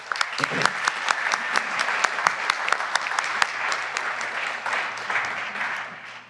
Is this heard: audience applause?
yes